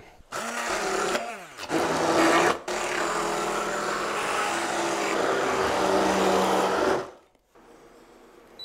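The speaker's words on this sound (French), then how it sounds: "Donc, hop, on va mettre un petit coup de mixeur." A hand blender purees cooked celery with butter in a pot, a loud, continuous whirring motor roar running for about seven seconds with a brief stutter near the start, then cutting off into quiet.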